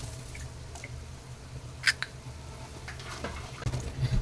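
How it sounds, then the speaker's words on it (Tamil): Four eggs are cracked and poured into a pan, giving faint crisp cracks and soft wet drips over a low background hum. "நான் 4 முட்டை உடச்சி ஊற்றிருக்கேன்"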